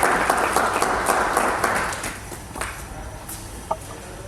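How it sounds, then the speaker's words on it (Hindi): Audience applause welcoming a guest at a literary event in Patna, loud dense clapping at first that thins and fades into scattered claps, one sharp clap near the end. "जोरदार तालियां इनके स्वागत"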